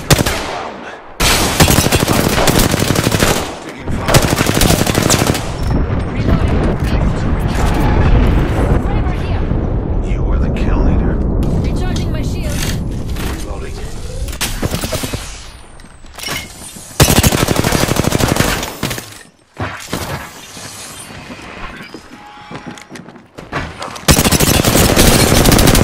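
Gunfire in Apex Legends, dense bursts of rapid automatic shots and heavy blasts that come in loud stretches broken by brief lulls, with game voices speaking over the battle.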